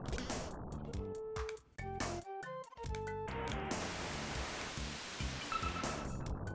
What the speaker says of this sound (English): the white noise sound effects